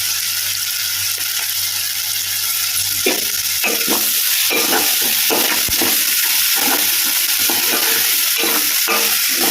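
Coarsely pounded ginger-garlic paste fries for a mushroom curry in a hot pan, giving a loud, continuous sizzle. Scraping stirring strokes repeat irregularly throughout.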